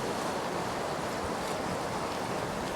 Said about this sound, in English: obviously, it's way more windy here